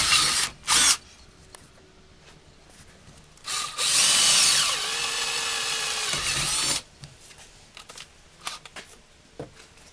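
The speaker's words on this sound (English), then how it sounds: "we just drilled the pilot holes" A power drill bores pilot holes into a Mercedes Sprinter van's front door for a grab handle kit, with a few short bursts, then a sustained whining run of about three seconds with rising pitch, close and loud, followed by quiet handling noises.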